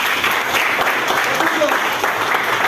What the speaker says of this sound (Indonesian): terima kasih tepuk tangan Joshua